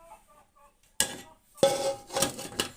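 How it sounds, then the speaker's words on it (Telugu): A lid set down on a cooking pan while egg cake is made at home: a sharp metallic clank, then a second clatter with a brief ringing tone and a few follow-up rattles, heard up close in a quiet kitchen. "మూత పెడుతున్నాను."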